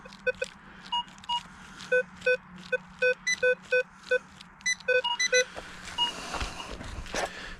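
A Nokta Makro Simplex metal detector chirps at a target with a run of about a dozen short, evenly spaced beeps that repeat in a rhythmic pattern. The beeps sit over a low steady hum and give way to rustling near the end.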